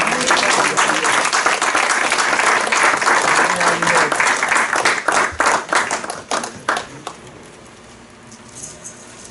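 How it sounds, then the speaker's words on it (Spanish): A church congregation bursts into applause, dense and loud for about six seconds, then the clapping thins into scattered claps and fades to quiet. "Den un aplauso al Señor"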